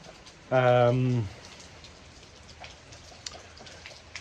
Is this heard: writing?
no